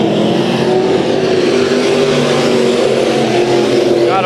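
Hobby stock race cars roar around Bakersfield Speedway in a heat race, a loud, continuous engine drone with shifting revs from several cars close by.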